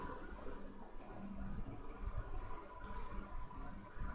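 Two sharp computer mouse clicks, about two seconds apart, each short and crisp, heard close up over a steady low background hum with no talking.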